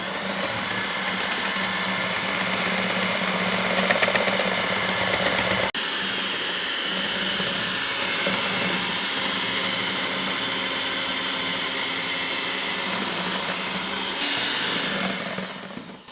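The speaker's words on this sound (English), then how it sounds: "Then you're going to take a hand mixer and you are going to beat this for a little bit." A hand mixer whirs steadily as it whips a keto tres leches cake topping toward stiff peaks, a continuous high-pitched motor drone that holds at an even, fairly loud level with a brief shift partway through.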